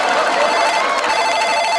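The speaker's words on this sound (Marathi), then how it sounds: "फोन आला." A telephone rings with a steady electronic tone, loud and close, with no one speaking over it.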